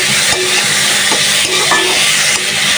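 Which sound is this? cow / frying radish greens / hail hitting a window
frying radish greens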